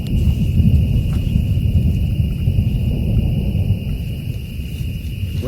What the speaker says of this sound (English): Got some lightning and thunder going on over there.